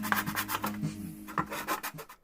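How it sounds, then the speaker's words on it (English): Sandpaper rubs over dried epoxy repair pieces in short, raspy back-and-forth strokes, close and fairly loud, with brief pauses between passes. "With this dried, I sanded the new pieces flat."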